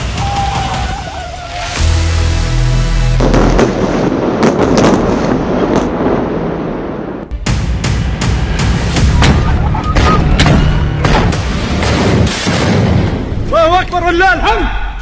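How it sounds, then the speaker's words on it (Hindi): Repeated heavy booms and sharp bursts of blasts in the Gaza war, some cracking like gunfire, rolling on continuously with voices mixed in. "बहुत से धमाके हो रहे हैं।"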